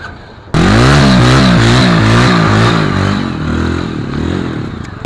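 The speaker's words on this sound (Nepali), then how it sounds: "बाइक एकचोटि साउन्ड नै सुनाइदिन्छु" A motorcycle engine with about 18,000 km on it starts abruptly and revs loudly, the pitch rising and falling in repeated throttle blips before settling into a rough, steady idle.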